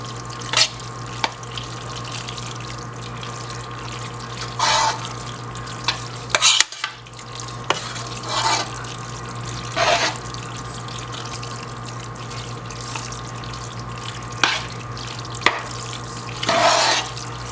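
A spoon stirs a thick macaroni pie mixture with grated cheese in a bowl or pot, giving intermittent wet squelching and scraping bursts over a steady low background hum, no talk.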